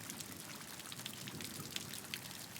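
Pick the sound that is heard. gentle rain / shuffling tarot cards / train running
gentle rain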